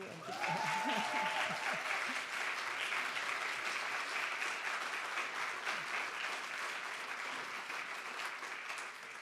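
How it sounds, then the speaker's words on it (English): Applause at a Berlinale awards press conference, a room full of people clapping steadily and evenly for several seconds, fairly distant and moderate in level. "You can applaud again if you want to."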